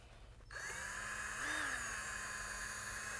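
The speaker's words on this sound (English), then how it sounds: "we're gonna go ahead and use a variable speed drill." A variable speed drill mixing metallic epoxy whirs to life after a short quiet moment, running steadily at a moderate speed with a slight rise in pitch.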